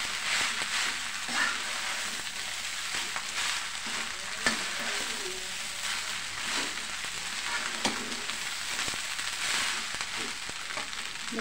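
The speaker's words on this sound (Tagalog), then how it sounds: "Haluin na natin at baka masunog." Food frying in a pan for a home breakfast, with a steady loud sizzle and intermittent scraping and clacking as a utensil stirs, no voices.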